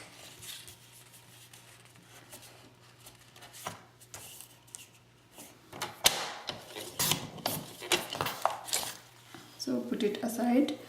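Strips of scrapbook paper for a Prima Lavender album are trimmed with a cutter, giving sharp clicking and sliding snaps in bursts after a quieter stretch, with faint handling noises and a low hum underneath.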